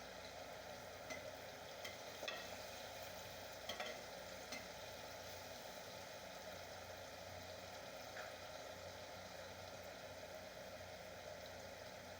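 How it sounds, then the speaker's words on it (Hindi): Pumpkin pieces frying in a pan while being stirred, a steady low sizzle running throughout with a few soft utensil scrapes, fairly quiet and without any talking. "कद्दू को हिलाते जाएं और फ्राई करते जाएं।"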